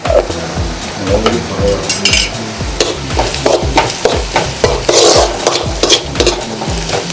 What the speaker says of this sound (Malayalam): നമുക്കിത് നന്നായിട്ടൊന്ന് വഴറ്റാം. ഇനി പൊടികളുടെ ഒരു പച്ചമണം മാറുന്നത് വരെ നന്നായിട്ടൊന്ന് വഴറ്റി കൊടുക്കുക.